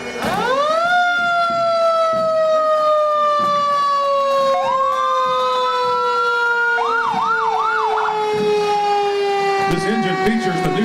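A Lewisville Fire Department engine's siren wails loud and close at a Western Days festival cattle drive parade, long sweeping tones rising and falling continuously, with yelping bursts near the end.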